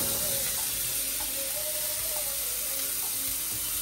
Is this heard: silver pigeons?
no